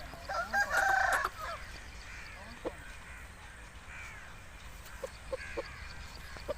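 An Aseel rooster crows once, fairly loud, against a murky outdoor background with faint bird calls and distant clucks scattered afterward.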